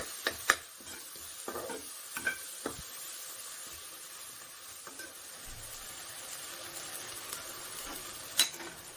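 Ingredients for a basmati rice mutton biryani are sautéed in a pan, with a steady low sizzle and several sharp spoon scrapes and clinks from stirring, the clinks clustered early and one near the end.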